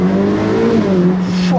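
A Ferrari Roma accelerating, a loud, close engine drone climbing steadily in pitch through a gear before a brief shift near the end, with no talking.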